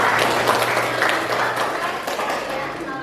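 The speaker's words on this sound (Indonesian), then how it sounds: "Kasih aplaus buat kalian." Classroom applause from students, a dense, steady clatter of many hands clapping that carries on for about three seconds.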